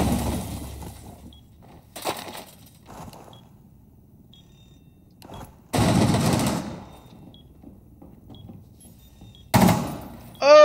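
Gunfire in a Rainbow Six Siege match replay: several separate bursts of loud rapid shots with crashing impacts, spaced by quieter stretches of game ambience and faint mechanical clicks.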